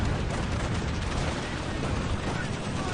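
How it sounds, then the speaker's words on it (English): A strafing run in a World War Two strategy game rattles out as a dense, continuous burst of gunfire, loud and noisy for the full few seconds. "Ooh, devastating strafe there."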